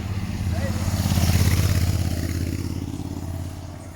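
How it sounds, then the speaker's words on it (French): Press motorcycles ride up a steep climb at a junior cycling race stage in Martinique. Their engines swell as they draw near, peak, then fade away, with crowd voices murmuring underneath. "On voit les motos de la presse sont là déjà"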